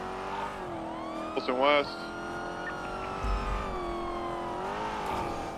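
A car in GTA 5 roleplay cruises with a steady, mid-level engine drone that rises and dips, plus a brief tire squeal as it brakes, while a voice talks over it.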